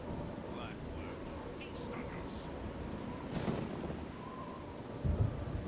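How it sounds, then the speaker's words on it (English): Steady rain falling with low rolling thunder in The Elder Scrolls IV: Oblivion, a continuous wash with a few deeper rumbles building near the end, and a voice now and then. "I'm guessing because it's raining right now."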